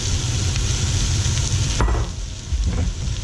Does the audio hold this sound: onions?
yes